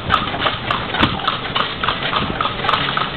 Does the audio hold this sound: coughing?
no